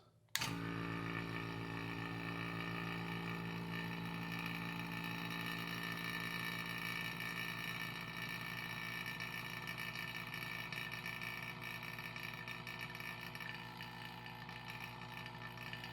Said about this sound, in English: Shut the pump off, and it's holding.